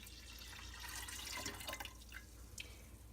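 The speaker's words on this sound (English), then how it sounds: "just add some cool water to it" Cool water poured into a glass jar for homemade kombucha, a faint steady gurgling stream with light splashes, close but quiet.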